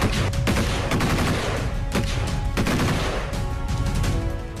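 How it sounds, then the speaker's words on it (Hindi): Rapid bursts of gunfire crack continuously along the Line of Control in the Uri Sector, with sharp repeated shots and a dense rattling volley echoing outdoors, no voices present. "LOC पर पिछले 10 दिनों से यूं ही गोलियां गरज रही हैं"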